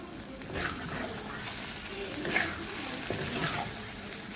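Beef tripe frying in a pan and being stirred, a soft steady sizzle with faint scraping bursts, heard alone at low level.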